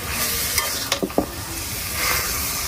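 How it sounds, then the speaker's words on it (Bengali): Free-range rooster meat is stirred and sautéed in hand-ground spice paste, village style, with a continuous close sizzle broken by a few sharp scraping and clattering knocks from a spoon against the pot. "মাংস যত কষাইবো ততই ভালো লাগবে"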